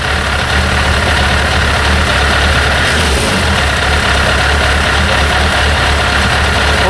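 A Yamaha GTS 1000 motorcycle engine runs loud and close with its throttle open, giving a steady, dense, rumbling drone with no pauses.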